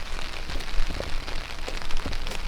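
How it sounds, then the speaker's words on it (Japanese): Steady rain falling outdoors, picked up as a continuous broadband hiss with scattered faint drop patter throughout, fairly even in level and with no voices over it. "雨の音とかも入ってるかな"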